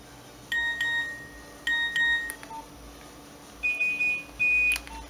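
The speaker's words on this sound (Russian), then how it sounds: "Также есть сигналы сообщений" Short electronic message alert tones from a Nokia 1110 mobile phone, several brief beeping melodic chirps in separate bursts, played close over a faint background hiss.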